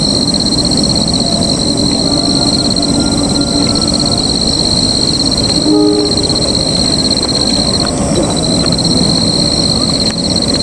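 A train rumbles steadily past nearby, loud and continuous, with a persistent high-pitched metallic whine over the heavy noise.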